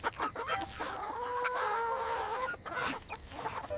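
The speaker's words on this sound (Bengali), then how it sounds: "দূরে একটা বড় বাড়ির উঠানে দেখতে পেল দুটো বিশাল সাদা মুরগি ঘুরে বেড়াচ্ছে" Two big white hens in a house courtyard clucking in an animated story, a close run of short, animated cackles and drawn-out squawking calls with no voices over them.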